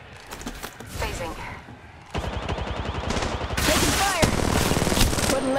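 Automatic gunfire in the mobile battle royale game Apex Legends Mobile. Rapid rattling bursts start sparse and grow into long, dense sustained volleys, loud and close, with a few brief mechanical clicks between them.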